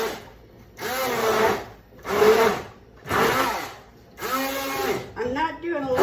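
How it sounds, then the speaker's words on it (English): A blender-type appliance grinds frozen tomatoes with vinegar for salsa in four loud bursts of a second or so each, separated by short pauses, with a choppier final run. "Let me see how these grind up with this thing right now"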